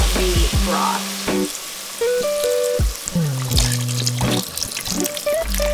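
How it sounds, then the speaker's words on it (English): Dry sherry and broth pour into a sizzling pan, loud continuous frying hiss layered with sloshing liquid and clinks of utensils. "Now I'm gonna add in the dry sherry along with the broth."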